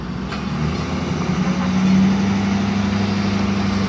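A heritage park pioneer train starts to move with a low, rumbling engine drone that swells slightly and holds steady, close and fairly loud, with no talking.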